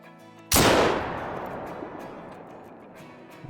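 A single loud rifle shot from a 9.3 drilling rifle while hunting mule deer in Call of the Wild: a sharp, close blast that fades into a long, rolling echo and tail, with no talk.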